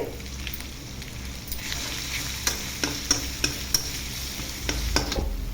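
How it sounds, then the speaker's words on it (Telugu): Chicken fry with turmeric is stirred in a pan over a low, steady sizzle, with a run of sharp spoon scrapes and taps against the pan in the middle and a louder stir near the end. "ఈ విధంగా అయితే కలుపుకోవాలి అడుగంటకుండా"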